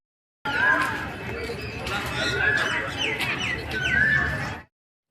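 Several birds call around the garden grounds of Belur Math, with bright whistled chirps rising at intervals over a steady outdoor murmur, moderately close.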